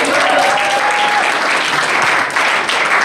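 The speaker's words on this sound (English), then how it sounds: "One last round of applause." Dense, sustained applause from an awards-night audience fills the room for about three seconds, loud and even throughout, with a brief whistle-like tone riding over it early on.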